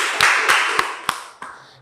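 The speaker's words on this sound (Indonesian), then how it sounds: "Kita beri tepuk tangan yang meriah ya." A classroom group gives a short round of applause, a few distinct claps standing out over a steady wash of clapping that gradually thins out.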